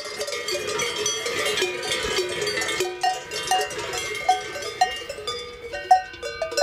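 Many Allgäu cowbells clank and ring together in a dense, continuous jangle, with a few clearer single strikes standing out toward the end.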